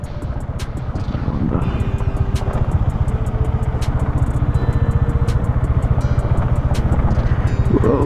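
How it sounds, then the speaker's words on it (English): A Bajaj Dominar 400 motorcycle rides onto a beach, its engine producing a steady, loud, rapid thumping drone throughout, close to the microphone. "We are literally taking our bike into the beach."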